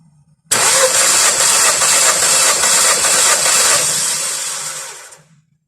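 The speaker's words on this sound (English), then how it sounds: "We're going to turn the engine over about 6 compressions so that we get a good regular reading." An engine cranks over continuously during a compression test for about four and a half seconds with a rapid rhythmic chugging, then winds down and stops.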